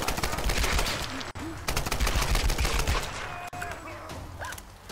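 Sustained rapid gunfire in a Tomb Raider game firefight, dense continuous automatic shots, loud and close, with a few brief breaks and faint voices underneath.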